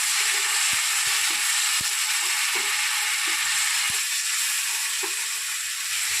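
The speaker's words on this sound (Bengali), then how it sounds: "এবার আমি ভালোভাবে মশলাটাকে কষিয়ে নেব" Spice paste with turmeric fries in a pan for a Bengali jackfruit kofta curry, giving a steady, even sizzle with occasional soft clicks and scrapes of stirring, no talk.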